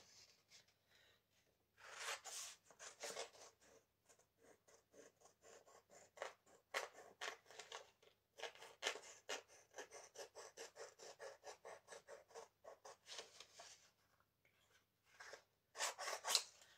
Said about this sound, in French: je vais prendre un gros ciseau